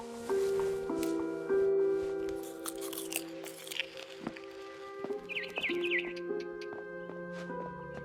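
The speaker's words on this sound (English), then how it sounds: "Then I heard chirping outside my window. It was a barn swallow going back to her nest." A barn swallow chirps in the video game What Remains of Edith Finch, short bright calls arriving in a quick burst amid game ambience, soft sustained tones and crunchy chewing noises.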